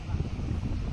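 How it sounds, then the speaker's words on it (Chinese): Strong seaside wind buffets the microphone at a windy coastal campsite, a steady, dense low rumble that stays loud and continuous throughout with no break. "风很大。"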